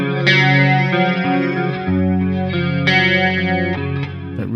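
A guitar playing sustained chords drenched in a shimmering 80s-style chorus effect from an amp simulator plugin, lush and wavering, loud and up front with no talking.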